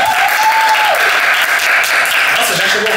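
Loud, close applause fills the room throughout, while people talk and call out over the clapping.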